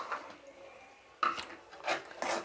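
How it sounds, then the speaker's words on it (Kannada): Raw green peas are tipped into a cooking pan for paneer butter masala. A few separate clattering bursts of peas and a utensil scraping against the pan, close and moderately loud. "ಇದರಲ್ಲಿ ನಾನಿವಾಗ ಹಸಿ ಬಟಾಣಿ ಆ್ಯಡ್ ಮಾಡ್ಕೊತಾ ಇದ್ದೀನಿ"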